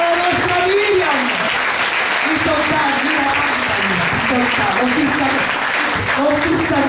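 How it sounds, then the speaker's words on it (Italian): Loud, sustained audience applause for a performer at a theatrical show, dense continuous clapping filling the whole stretch with cheering voices and chatter running underneath. "Un applauso a Graziella, la nostra Miriam!"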